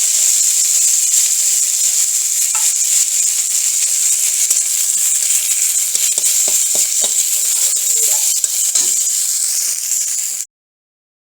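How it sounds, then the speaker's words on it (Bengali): Neem leaves frying in hot oil give a steady, loud sizzling hiss that runs close and unbroken for about ten seconds, with a few faint stirring clicks near the end, then cut off abruptly. "নিম পাতাটা ভাজা হয়ে গেছে"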